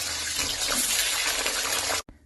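Potatoes go into very hot mustard oil and give off a loud, continuous close-up sizzle and hiss that stops abruptly near the end.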